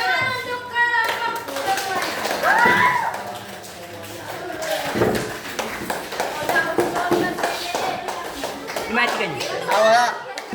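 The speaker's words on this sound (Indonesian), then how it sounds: "tepuk tangan untuk kelompok" Applause for a group of students in a ninth-grade classroom, a burst of clapping and tapping from the class mixed with children's chatter and voices throughout.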